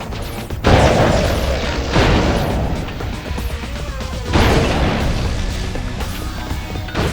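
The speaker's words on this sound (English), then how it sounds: "So let's use the fusion rifle." Fusion rifle blasts in Ratchet: Deadlocked, heavy booming discharges with crashing tails set over dense game background noise, with several loud hits spread across the stretch.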